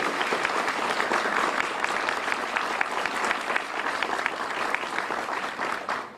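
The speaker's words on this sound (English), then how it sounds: "Let's give them a round of applause for all of their hard work and dedication today." A crowd claps for students at a Louisiana education event with the governor, strong steady applause with a few distinct individual claps standing out near the front, tapering slightly at the end.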